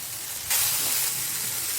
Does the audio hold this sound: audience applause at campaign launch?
no